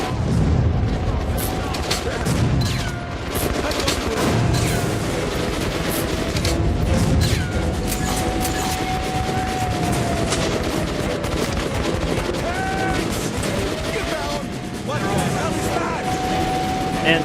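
Sustained gunfire in Metro: Last Light, with bullets punching through a thin wall: a dense, loud, continuous barrage of shots and booms lasting the whole stretch, barely easing.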